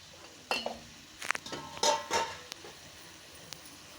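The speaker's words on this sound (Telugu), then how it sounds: "చికెన్ మొత్తం మిక్స్ అయిపోవాలన్నమాట చూస్తున్నారు కదా అలా కలుపుకోవాలి" Country chicken curry being stirred in a metal pot, with several sharp clinks and scrapes of a spoon against the pan in short bursts, fairly close, with no talking.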